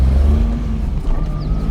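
A 24-year-old Maruti 800 pulls away uphill with a loud, steady, low engine drone close by, its note shifting slightly as it moves off.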